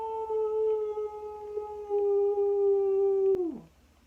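A person imitates a wolf howl with a long, sustained, tonal note held for over three seconds that drops sharply in pitch at the end, close and clear, with no other talking.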